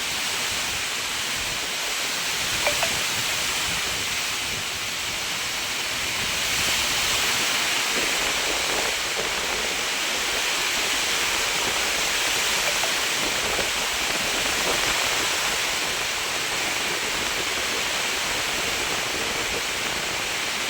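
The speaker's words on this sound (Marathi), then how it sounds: "लय भरपूर पाऊस चालू आहे" Heavy rain pours down steadily in a dense, continuous hiss, loud and unbroken throughout, with no talking.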